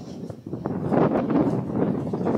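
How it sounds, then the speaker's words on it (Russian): Strong, cold wind buffets the microphone outdoors on a city street near the town hall, a steady broadband roar with gusting swells throughout. "какой ветер, капец. Холоднющий."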